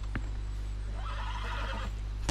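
An agitated horse in Red Dead Redemption 2, a Black American Standardbred, lets out a loud, drawn-out whinny over a low steady hum, framed by a couple of sharp hoof thuds.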